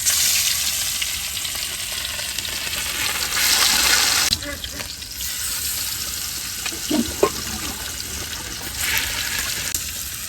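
Rupsha fish seasoned with turmeric and salt fries in hot oil in a kadai, sizzling loudly and steadily with brief bubbling surges and a few louder pops.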